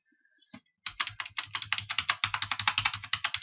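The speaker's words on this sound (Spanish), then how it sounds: "Con el teclado puedo moverlo," Rapid typing on a computer keyboard, a few light taps followed by a fast, continuous burst of close, crisp keystrokes with no talking.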